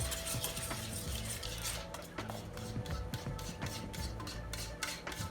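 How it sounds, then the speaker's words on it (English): Cheese dip being stirred for pulled pork nachos, a steady close scraping and rubbing of a utensil through the thick dip in a continuous rhythm, with no talk over it. "Give that a nice little stir."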